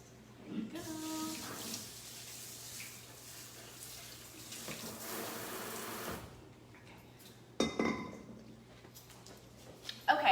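Soaked beans are drained at a kitchen sink under running water, a muffled steady gush with splashes and clatter near the end, with no talking.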